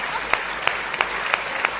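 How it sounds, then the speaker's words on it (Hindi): An audience at a Gujarat kavi sammelan poetry gathering claps, a brief burst of applause with a few sharper distinct claps punctuating the wash at a steady pace. "देख रहे हो आप तालियां माहेश्वरी समाज की"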